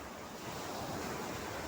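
Sea waves wash onto the shore in a continuous broad roar mixed with wind buffeting the microphone, steady and loud with no voices.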